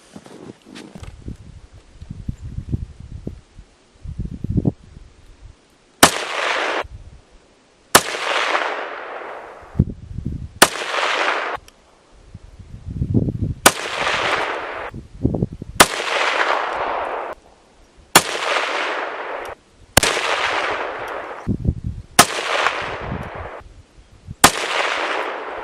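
An SKS rifle fires ten shots at an outdoor range, each a sharp loud crack with a decaying echo, spaced roughly two seconds apart, with quieter handling noises between and before them.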